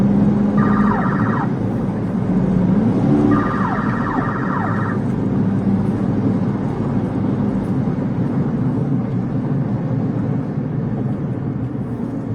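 A police car siren wails during a pursuit in two short electronic yelp bursts over a loud, steady engine and road rumble inside a moving patrol car.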